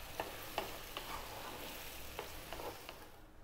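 Green onions stirred into fried fish with mushrooms in oyster sauce: quiet, rhythmic scraping strokes of a spatula over a soft, constant sizzle from the pan, close but faint, without speech.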